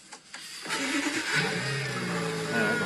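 A 2020 BMW M8 Competition engine cranks and starts, then revs into a strong, steady growl close by, with no one speaking.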